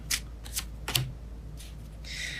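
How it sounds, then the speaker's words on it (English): Tarot cards being shuffled by hand, giving several soft, quick bursts of riffling and slapping at close range, with short pauses between them and no talk. "All right, I keep shuffling."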